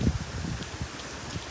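A gust of wind during Hurricane Ian roars as broad, steady rushing noise with low buffeting rumbles against the microphone, loud and close, with no voices over it.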